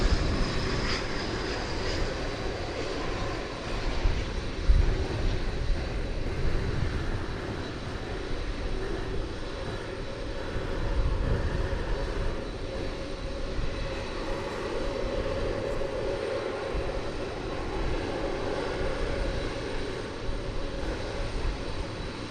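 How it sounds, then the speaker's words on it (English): An MD-11 airliner takes off at night from runway 18 Left at DFW Airport, a continuous, distant rumbling roar of jet engines that holds steady with no voices. "we've been lucky enough to see all of them take off from here on the 18s, runway 18 left"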